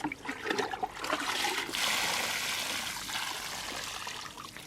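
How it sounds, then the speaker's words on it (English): Water runs and trickles steadily from a hose onto apple trees in a country yard on a summer evening. The flow is soft and continuous, a quiet splashing stream with no talking. "Time to water the apple trees tonight."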